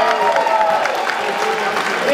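A large audience at Liberty Fest NYC 2011 bursts into loud, sustained cheering and applause, a dense continuous roar of clapping and shouting filling the whole moment.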